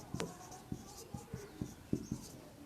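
Chalk or marker taps and short strokes on a board during a Hindi chemistry lesson, a quiet irregular series of about eight brief scratches under soft background room noise.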